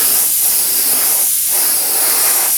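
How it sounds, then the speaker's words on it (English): Airbrush spraying thin coats of paint onto a scale model of an RAF rescue launch, a steady close hiss of air and paint that runs without pause and is heard alone. "the main thing with spraying is just to keep the model moving all the time"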